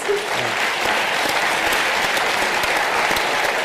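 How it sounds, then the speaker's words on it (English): Audience at a city strategic plan presentation claps for the presenters, a thick, continuous round of applause sustained evenly from start to finish. "Can we give a round of applause to all of the presenters"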